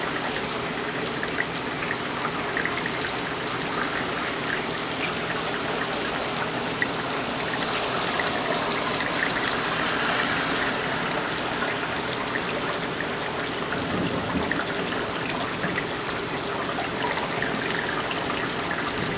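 Heavy summer storm rain pours, with runoff overwhelming house gutters, making a continuous rushing, splashing wash of water that stays loud and steady, no talking heard.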